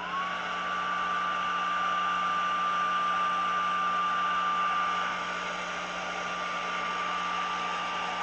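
A hair dryer blows steadily and loudly throughout, a constant whooshing roar with a faint whine, drying silicone without pause.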